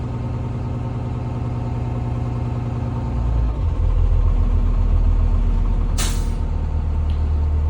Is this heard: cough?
no